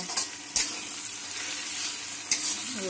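Garlic paste sizzling in a pan while a Bengali mutton curry is cooked, a continuous close hiss broken by two sharp spatula clicks against the pan, with no talking.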